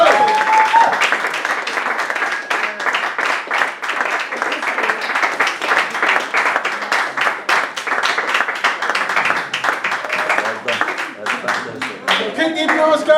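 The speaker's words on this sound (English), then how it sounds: "Keep the applause going all the way to the show." Sustained, steady applause from an audience at a poetry event, many hands clapping continuously for over ten seconds, with faint voices rising near the end.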